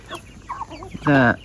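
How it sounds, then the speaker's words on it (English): Chickens and chicks in a large backyard farm coop give soft scattered clucks and peeps, then one loud, close, drawn-out squawk near the end, with a brief word spoken over them. "All these chicks are the ones that have hatched from"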